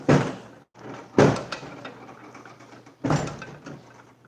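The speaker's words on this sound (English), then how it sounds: "I'm making sure my door is all the way closed." Door being pushed shut against swelling in cold, sleety weather, with three heavy thumps and scraping rubs in between, close and fairly loud.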